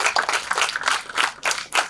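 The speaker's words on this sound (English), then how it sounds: "Let's give him a round of applause." A small group at a college motivational talk claps in uneven bursts, brief and fairly close, fading in and out.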